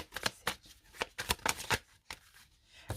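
Playing cards are shuffled and drawn in a quick series of crisp riffles and flicks, close and fairly quiet, during a tarot-style card reading, with no talking.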